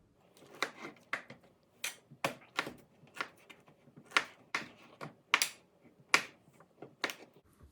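A knife dices suet fat on a cutting board for pemmican, a steady run of sharp, close chopping taps at an uneven quick rhythm, with no talk.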